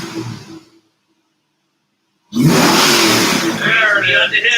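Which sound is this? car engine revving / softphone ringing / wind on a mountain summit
car engine revving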